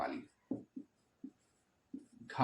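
A pen or chalk writing numbers and exponents for an LCM and HCF maths lesson, a few short scratchy strokes separated by pauses, close and fairly clear, with speech at the start and end.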